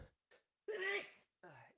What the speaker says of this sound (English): I'm going to sneeze, I think.